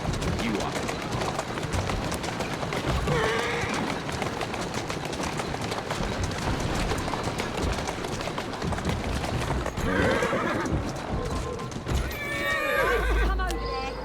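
Horse neighs and whinnies with clip-clopping hooves in the Victorian London streets of Assassin's Creed Syndicate, set against a dense game soundscape with city ambience, and game characters talk over it.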